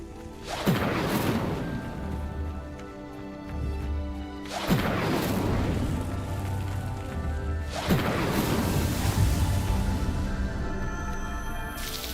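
A fire spell in Hogwarts Legacy bursts into flame three times at even intervals, each a sharp crackling whoosh that trails into a low rumble of burning.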